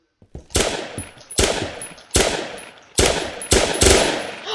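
Machine gun fire in an online shooter game, heard as five loud, separate bursts of rapid shots at roughly even intervals, each with a sharp attack and a decaying tail, close and with no talking over it.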